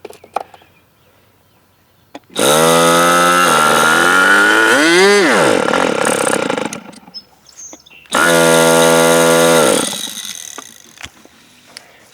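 An OS 46 FX model engine with a high-speed needle problem screams loudly in two bursts, revving up and bogging down in pitch during the first long run, then holding steady in a shorter second run, with quiet gaps between.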